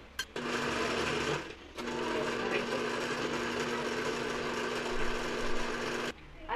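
An electric blender whirs steadily as it blends ube jam, running loud and continuous for several seconds with a short stop and restart near the start and a cutoff near the end.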